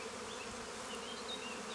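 Bees swarm around an opened hive as boxes are separated, producing a dense, continuous buzzing hum close by, with individual insects whining past.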